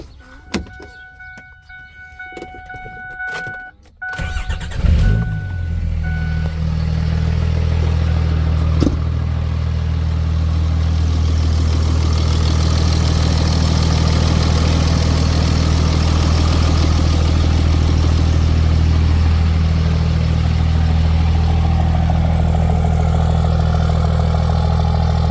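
Cummins common rail diesel swapped into a 2008-2010 Ford SuperDuty: clicking and a short crank, then the engine catches and settles into a loud, steady, low diesel idle that runs on for over twenty seconds.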